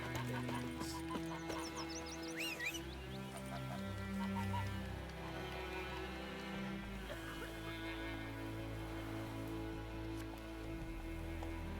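Roach, the horse in The Witcher 3, moves with steady hoof clip-clops and a whinny, set over an ongoing game soundscape with faint voices.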